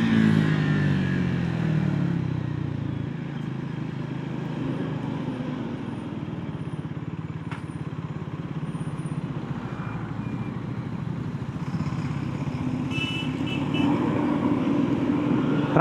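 Steady road traffic noise with passing cars and motorcycles on a busy single road, heard continuously at moderate loudness from a motorbike rider's position, with engines droning and occasional revving.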